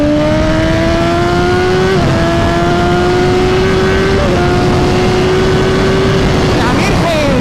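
A 2020 BMW S1000RR runs at full throttle on a race circuit above 12,000 rpm. The engine gives a loud, close, high-pitched scream, and its pitch climbs through several quick upshifts as the bike accelerates down the straight.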